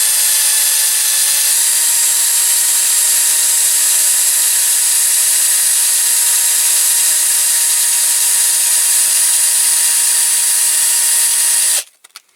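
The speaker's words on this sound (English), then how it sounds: "So I'm doing it with sandpaper on the drill to try and get them smooth" A power drill spins sandpaper against small die-cast metal parts of a Dinky Toys No 259 fire engine, a steady high whine with a rasping grind held for about twelve seconds before it stops abruptly.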